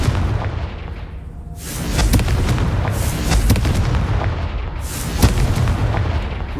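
In Hogwarts Legacy gameplay, the Confringo spell sets off booming fiery explosions, several heavy blasts and bursts in succession over a continuous rumbling game soundscape.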